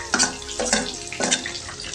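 Garlic dropped into hot oil with chopped onion and chili, a broad hissing sizzle swelling in several bursts as the pieces hit the pan, steady frying noise underneath, no talk.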